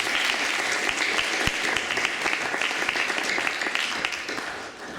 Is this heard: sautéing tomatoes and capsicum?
no